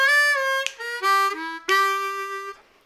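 Blues triplet lick played on a C harmonica, a series of bent, wailing sustained notes with short breaks between phrases, close and clear with no talking.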